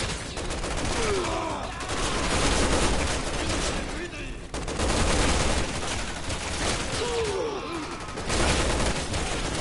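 Gunfire in the video game Resident Evil 6 with Chris, dense bursts of shots running almost continuously, loud and close, with game sounds mixed in.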